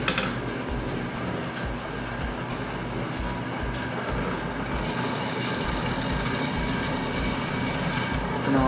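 Steady scraping and rubbing of a trimming tool shaving a thin layer off a clay lid spinning on a potter's wheel, with the wheel's continuous hum underneath; no talking.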